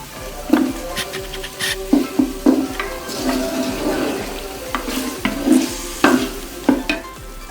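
Mutton pulao masala with tamarind being fried in a pot, a loud close sizzle broken by repeated rhythmic stirring scrapes and knocks of a spoon, no talking.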